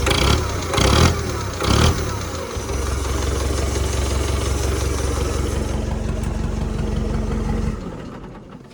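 A heavy diesel tractor engine with a cab-mounted exhaust and air intake is revved in a few loud bursts, then holds a steady, throbbing high-rpm drone before dropping off at the end.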